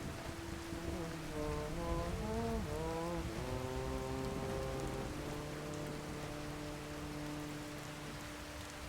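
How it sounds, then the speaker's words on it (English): Steady rain hisses in Skyrim with weather mods, a soft, even wash of falling drops. A wavering tonal drone sits over the rain early on, then settles into held tones. "Cold and Wet and Realistic Water 2 are two mods that really add a lot more atmosphere to the rain and weather systems in Skyrim"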